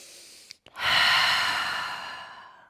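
A deep, full breath taken during a yoga flow, with a short sniff and catch, then one long loud exhale that fades gradually, close to the microphone with no speech.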